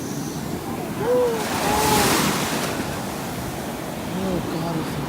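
Ocean waves rolling in at Santa Monica beach on a sunny day, a continuous washing roar with wind buffeting the microphone, swelling gently once or twice, while people talk faintly in the background.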